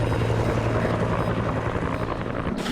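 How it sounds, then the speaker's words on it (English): Loud, steady helicopter rotor thumping with a heavy low drone, continuous and close overhead throughout. "I think these helicopters are here for you"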